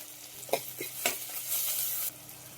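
A spoon stirs mutton soup ingredients in a hot pan, giving a few scraping knocks over a soft steady sizzle that continues after the stirring stops.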